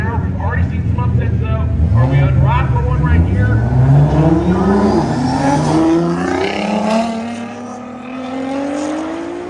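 A Nissan GTR, the 2017 car, and a Toyota Supra roll racing at a drag event, engines roaring loudly and rising in pitch as they accelerate, then fading as they pull away, with a commentator talking over them.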